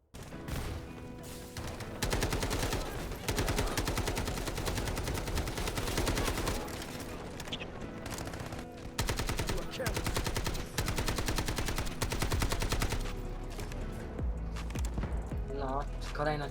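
Rapid automatic gunfire rattles almost continuously from the Delta Force video game, loud and close, in long sustained bursts with brief gaps, a voice briefly speaking near the end.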